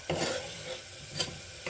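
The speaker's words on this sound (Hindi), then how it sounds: "तो फिर इसमें कीमा डाल देती हूँ" Minced meat (keema) goes into a small pressure cooker with a little oil and is stirred, giving a steady sizzle with a few sharp scrapes of the spoon against the pot.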